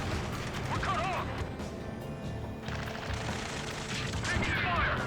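Rapid gunfire and explosions rattle through a dense battle soundscape in the video game Ace Combat 3, a harbor attack, with steady combat noise and radio-style voices throughout.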